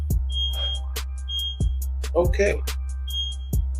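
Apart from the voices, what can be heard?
smoke alarm beeping, false alarm in studio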